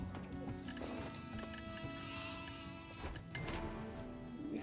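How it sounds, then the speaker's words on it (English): Sheep bleat in a crowded field in the online game Black Desert, a few wavering bleats over a soft bed of hooves and ambient game sound, moderately quiet. "there's tons of sheep."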